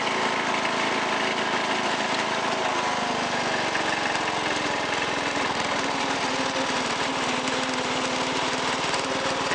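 Engine of a 1986 Toro 11-32 lawn tractor salvaged from a scrapyard, running fast with a steady, loud, continuous buzzing drone that holds unbroken throughout.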